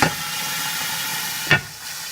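Water poured onto frying onions for biryani bursts into a loud, steady hiss of sizzling and steam, with a short sharper flare of crackling near the end, and no voices.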